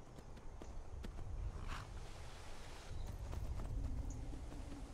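A horse's hooves clop in the video game Skyrim, faint and fairly distant, a loose run of soft thuds over a low rumbling background with no talking.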